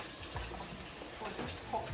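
Bitter leaf is washed by hand in a bowl of water, with soft continuous sloshing and splashing, faint and close, with some speech over it.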